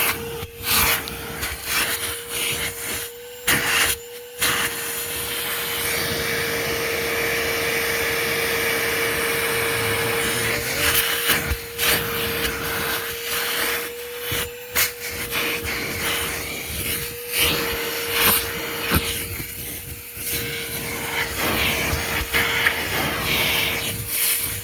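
A Ridgid dual 18-volt cordless vacuum, model HD0918, runs continuously while cleaning a seat, giving a steady whining hum with rubbing, shuffling noises as the nozzle moves.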